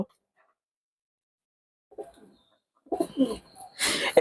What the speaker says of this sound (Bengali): এই জায়গায় যে কটা কবুতর দেখছেন